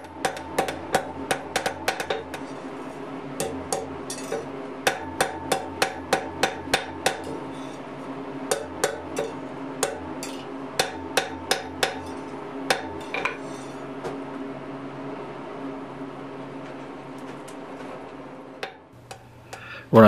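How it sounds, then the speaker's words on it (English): Hammer cross-peening offsets into hot steel on a hand-forged ladle handle: rapid, ringing metallic blows in bursts of quick strikes with brief pauses, close and sharp, over a low background hum. "When I cross-peen this second offset"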